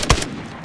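A SCAR-L fires in semi-automatic mode in the Arena Breakout Infinite video game, with one sharp, loud close shot and a short ringing tail.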